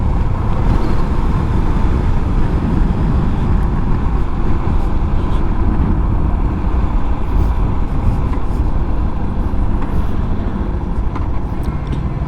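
Steady, dense road and wind roar heard inside a motorcycle helmet with the visor closed while riding, recorded on a GoPro 10 microphone; it holds one constant loud drone with no talking.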